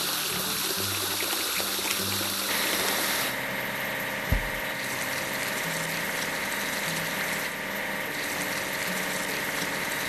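Water sprays steadily over an idling engine and pump hum while a crane gets washed on a construction site, a continuous rushing hiss with a brief low knock partway through.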